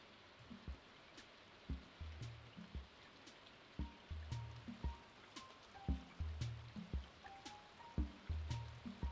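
Rain ambience from the video game Stardew Valley, a steady soft patter with trickling water, mixed with a gentle repeating rainy-day music loop of low plucked notes and soft chimes, quiet and without talk.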